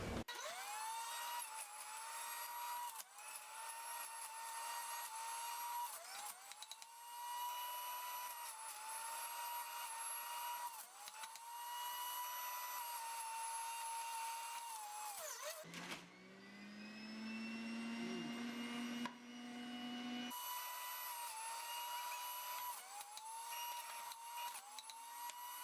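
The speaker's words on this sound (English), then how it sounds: "you could begin juicing the rest of the ingredients" An electric juicer runs at a steady, loud whirring pitch while vegetables and fruit are fed through, with brief dips as pieces press in and a short change in tone partway through before the motor resumes.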